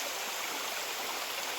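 Mountain spring water rushes steadily from its source, a continuous dense hiss of flowing water close by, with no voices.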